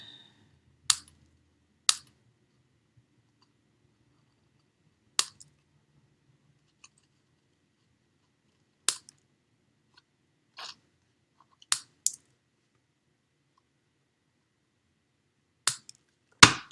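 Scissors trimming paper whiskers on a punch art Easter bunny card, a series of isolated crisp snips spaced apart against near silence, close and fairly quiet.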